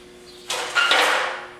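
A metal front-end frame section is lifted and slid underneath into position, giving a short scraping, sliding rush that starts abruptly, swells into a louder second push, and then trails off. The sound is close and there is no talk.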